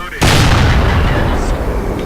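A heavy boom from the AT7 tank destroyer's gun firing in World of Tanks, one loud close blast with a rumbling tail that fades over two seconds.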